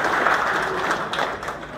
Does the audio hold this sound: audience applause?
yes